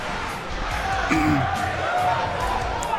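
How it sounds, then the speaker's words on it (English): Crowd noise from the WWE 2K19 wrestling video game swells in a continuous roar with rising cheers, fairly loud and steady across the moment. "crowd saying Pearce is not worthy"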